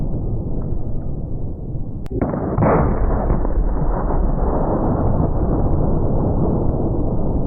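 A punt gun fired at an armored truck, a single heavy blast followed by a long loud rumbling roar that sustains to the end, no voices.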